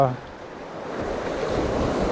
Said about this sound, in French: Ah, il y a un putain de vent